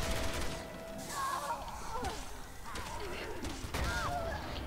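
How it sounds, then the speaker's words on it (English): Explosion and gunfire in the Resident Evil 6 video game, Leon's campaign, loud busy bursts and crashes running throughout, mixed with game effects and a voice in the background. "You got hit by an explosion."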